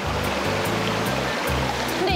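A mountain valley stream rushes steadily over rocks in a summer gorge, loud and close, a continuous broadband wash of flowing water that fills the whole clip.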